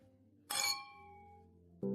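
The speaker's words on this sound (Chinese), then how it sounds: "来，为我们的新锐设计师干杯，也为告别垃圾，重获新生干杯！" Two glasses clink together in a celebratory toast, one bright ringing chime that decays slowly, followed by a second short knock near the end, quiet room otherwise.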